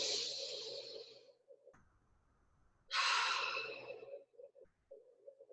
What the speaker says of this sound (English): taking a couple of inhales through the nose and exhale through the mouth